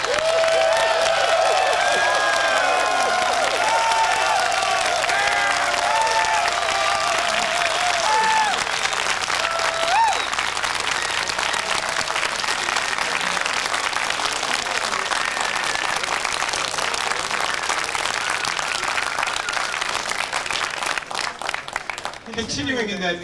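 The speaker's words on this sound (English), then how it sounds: "I'd really like to everybody give a big round of applause for the director" An audience at the SF19 event in 2002 gives the director of Koneko a long, sustained round of applause, dense clapping with some cheers early on, continuing for over twenty seconds before tapering off abruptly.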